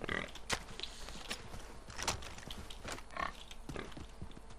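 A pig in the video game Far Cry 3 gives several short, spaced grunting oinks, fairly close and quiet, amid faint game ambience and some talk.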